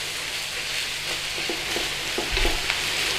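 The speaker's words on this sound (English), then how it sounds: "we just want to go in with our mince. So we need to start breaking it up and cooking it down together." Beef mince sizzles and fries in a hot pan while being broken up, a steady close crackle with a few soft scraping stirs and bumps of the utensil against the pan.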